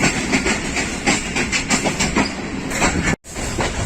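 Pakistan Railways passenger train, the 9 Up Allama Iqbal Express between Lahore and Sialkot, rolling along the border with a loud steady rumble, rhythmic clickety-clack of the wheels and a brief dropout near the end.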